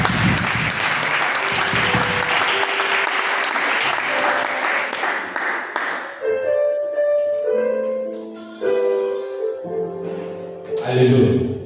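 A church congregation breaks into sustained loud applause and cheering that fills the hall for several seconds, then fades as a musical keyboard and voices take over.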